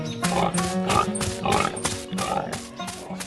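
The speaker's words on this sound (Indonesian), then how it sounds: "Babi-babi berwarna pink sedang bermain ria di dalam gudang kayu." Pink pigs in a wooden barn oink and grunt in a rapid series of close, fairly loud snorts with brief pauses between them.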